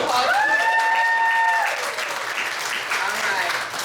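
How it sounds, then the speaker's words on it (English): Audience applause from fans and guests at a show, clapping that swells and continues, with a voice speaking over the start. "Please give yourself a round of applause."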